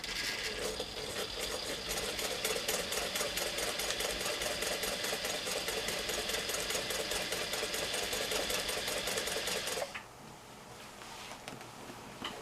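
A sewing machine stitches in the ditch on a quilt, a fast, even mechanical chatter running loud and steady for about ten seconds before stopping abruptly, leaving faint handling noise.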